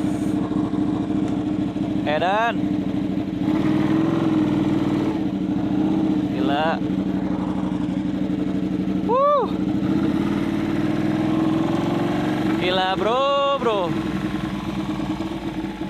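Modified Ducati Panigale sport bike engine idling loudly and steadily, with several sharp throttle blips rising and falling in pitch, close by, while a man exclaims over the noise.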